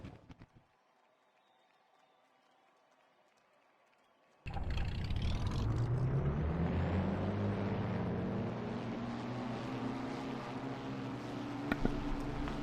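A full field of forty race cars in a stock-car racing video game fires up at a virtual Lime Rock Park, a sudden loud wall of engine roar after near-silence that keeps droning and rising steadily.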